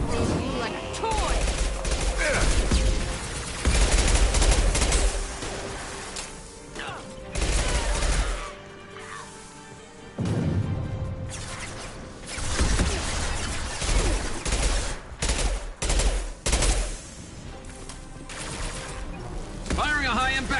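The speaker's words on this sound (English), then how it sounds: "Firing a high-impact shot." Gunfire from Mass Effect 2 combat, with repeated bursts of shots and heavy high-impact blasts in clusters, some loud and close, amid battle noise.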